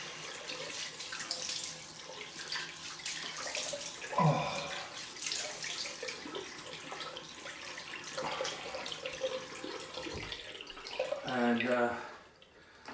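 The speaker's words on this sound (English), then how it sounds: "let's do the cold splash" Cold tap water running into a sink and splashed onto a face after a straight razor shave, a steady trickle broken by several wet splashing bursts, with a brief word spoken.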